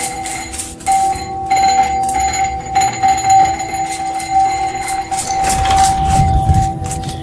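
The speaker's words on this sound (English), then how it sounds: "the doorbell suddenly begins to ring" A steady electronic bell tone rings for several seconds, with a low rumble and faint jingling underneath before it stops.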